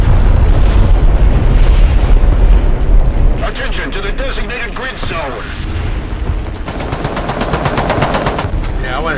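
Bombs dropped from a biplane in War Thunder burst in loud, rumbling explosions amid constant gunfire and engine roar, with a rapid burst of machine-gun fire near the end.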